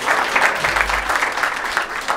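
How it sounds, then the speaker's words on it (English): A short burst of crowd applause at an art center artist's party, dense clapping that stays strong throughout. "I want you to give yourself a round of applause"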